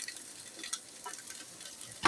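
Fried rice is stirred in a hot pan, a soft continuous sizzle with a few light scrapes of the utensil and a sharper scrape near the end.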